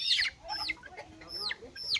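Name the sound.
chicken clucking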